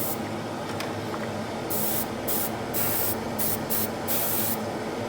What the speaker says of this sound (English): you're just going to do just a light mist coat